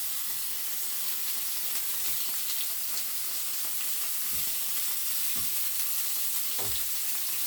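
Cheese frying in a pan gives a steady, close sizzle and hiss throughout, with a few soft stirring or scraping knocks and no one talking.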